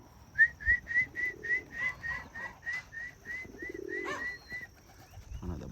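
Pigeons or doves being called in, a rapid run of about fifteen soft, regular whistled coos, fairly close, with some low rustling in between and no talking.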